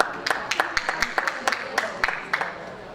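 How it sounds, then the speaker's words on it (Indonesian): Audience applause for the Central Java finalist at a cultural pageant grand final, a thin scatter of claps ringing out in an irregular rhythm at moderate distance, fairly soft and brief. "Tepuk tangan untuk Jawa Tengah."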